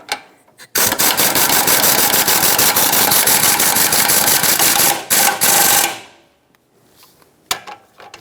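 An impact wrench tightens a front sway bar link nut on a 2013-2018 Hyundai Santa Fe with one loud, rattling burst of about five seconds, stopping abruptly before a brief quiet tail.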